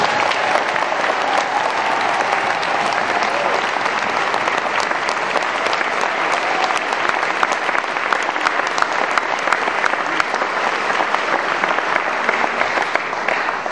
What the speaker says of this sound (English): So there's a special round of applause for Nolan Gasser.